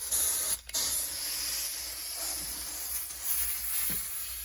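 Steady, faint broadband air hiss from a compressor line inflating a cut tyre to seat it on its rim after sealant testing, continuous throughout with small fluctuations and no speech.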